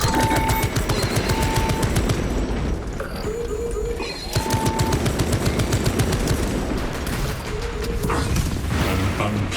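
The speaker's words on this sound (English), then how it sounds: "Activating Tarantula sentry gun." A Tarantula sentry gun firing in a video game, a steady, loud stream of rapid automatic shots in rhythmic bursts with brief pauses, layered with electronic tones and mechanical game sounds.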